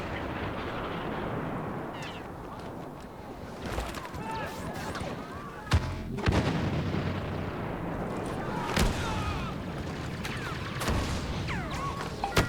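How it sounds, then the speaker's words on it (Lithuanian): Orbital strike explosions in Star Wars Battlefront, booming blasts and rumbling impacts amid dense game noise and intermittent gunfire, with voices over the battle. "They fired off an orbital strike!"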